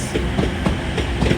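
Class 185 TransPennine units, 185 119 leading and 185 106 at the rear, run through York station with a steady rumble and regular clickety-clack of wheels over rail joints, close and continuous without speech.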